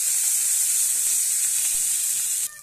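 Bitter gourd slices and coriander seeds fry in a pan with a steady, loud broadband sizzle that holds evenly, then drops off sharply near the end.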